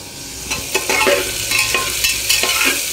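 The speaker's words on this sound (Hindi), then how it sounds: "तेल में भी हो रहा है प्याज यहाँ पे फ्राई" Onions fry in hot oil in a pan, giving a steady close sizzle with repeated scraping stirs of a spatula over it and no voices.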